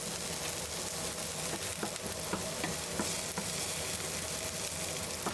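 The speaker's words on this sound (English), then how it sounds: "add in minced garlic, chili pepper, and optionally fermented broad bean paste, and bloom for 30 seconds to release the fragrance" Minced garlic, chili pepper and fermented broad bean paste fry in hot oil, giving a faint, continuous sizzle with occasional light stirring ticks and no talking.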